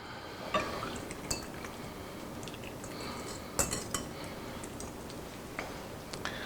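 Utensil clinking and scraping against a bowl while waffle batter is mixed, a steady run of light clinks with a few sharper taps, close and fairly quiet.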